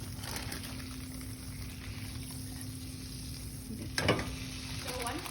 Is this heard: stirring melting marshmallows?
yes